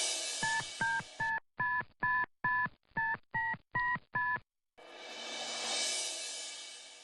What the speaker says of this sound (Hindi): अभी फोन मिलाता हूं।